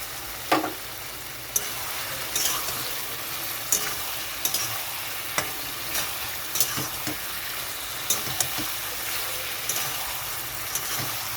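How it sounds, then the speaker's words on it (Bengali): Poppy seed paste being stir-fried in a pan with bottle gourd, potato and a splash of water, giving a steady bright sizzle with irregular sharp scraping taps from stirring throughout. "পোস্তটা কষানোর জন্য এখানে একটু জল দিয়ে দিচ্ছি পোস্তর বাটিটা ধুয়ে।"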